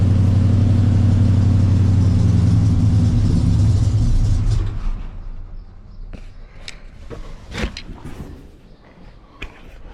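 A big block 454 engine in a Chevrolet C10 truck runs with a loud, deep rumble for several seconds, then cuts out, leaving quieter clanks and handling noises.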